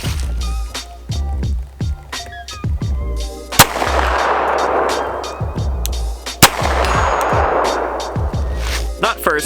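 Archon Type-B handgun fired at a target about 85 to 90 yards away, a few sharp cracks spaced seconds apart over a busy background of game noise, with a voice talking faintly beneath.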